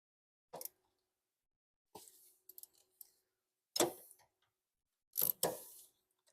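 Tools click and clack while the last nut on a GM Magnaride strut assembly is tightened on a 2015-2020 GM vehicle, a few separate close metallic taps and ratchet bursts between quiet gaps.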